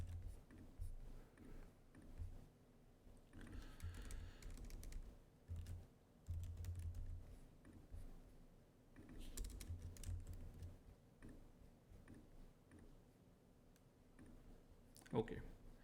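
Typing code on a computer keyboard, quick bursts of clicking keystrokes with pauses, fairly faint, close to the microphone.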